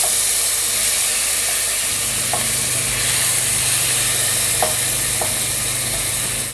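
Chicken liver and gizzards frying in a spoonful of ghee, a dense steady sizzle close up with a few faint utensil clicks and a low hum underneath.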